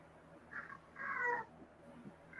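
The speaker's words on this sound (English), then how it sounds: "my cat got really loud when you said fighting Kim Jong-un, and she sounded angry" A pet cat gives two fairly loud, drawn-out meows in a quiet room, the second longer and more insistent than the first.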